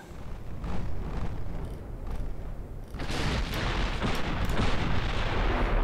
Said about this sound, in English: Still just kind of peppering them with long range fire.